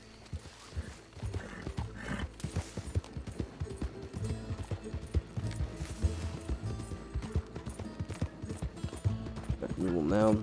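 Tennessee Walker horse hooves in Red Dead Redemption 2, a steady clip-clop of hoofbeats at walking pace with occasional whinnies, under a music bed and talk throughout.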